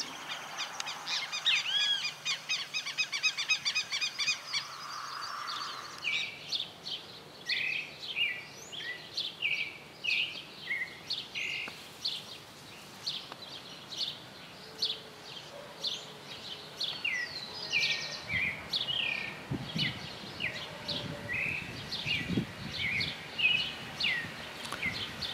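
Great kiskadees and thrushes feeding in a privet tree in Esperanza, Santa Fe, Argentina, giving repeated short chirps and calls, some close and sharp, others fainter, scattered irregularly over soft outdoor background with an insect-like buzz early on.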